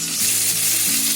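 Chopped onion dropped into hot oil for jeera aloo, a loud, dense sizzle and crackle of frying close by, continuous with no talking.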